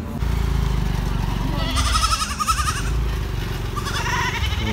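Goats bleat at a busy goat market in Lhokseumawe, with two or three wavering calls rising over a loud, constant background of crowd chatter and engine noise.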